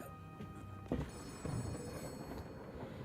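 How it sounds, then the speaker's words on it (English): A faint electronic office phone ring in a video game trills steadily beneath quiet background noise, with a couple of soft thumps partway through. "The office phone is ringing."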